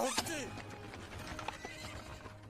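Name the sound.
horse neighing and hooves clip-clopping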